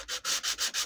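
A coral bowl is sanded by hand in short rhythmic strokes, each a close, loud, dry scratchy rub, about five passes in quick succession with no voices.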